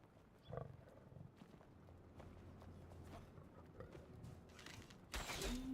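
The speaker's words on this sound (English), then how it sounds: "That's the growling that I heard." A wild creature growls low in the Enshrouded game world among footsteps and ambient rumble, followed by a louder burst near the end, with no talk.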